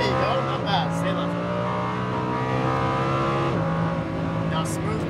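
Lamborghini Huracan V10 accelerating hard on the Las Vegas Motor Speedway track, a loud continuous engine roar with rising harmonic sweeps as it climbs through gears and shifts, heard from inside the cabin with some talk over it.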